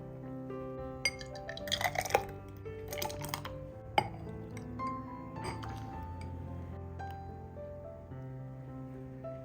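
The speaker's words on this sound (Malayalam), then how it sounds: "ഇനി ഗ്ലാസ്സിലേക്ക് സെർവ് ചെയ്യാം." A summer drink is served into a glass, with soft liquid sounds and scattered light clinks of glass and utensils, fairly quiet and close, with no voices.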